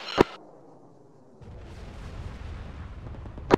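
Bombs explode in a video game: two sharp, loud blasts bracket a deep rumbling roar that swells and lingers between them.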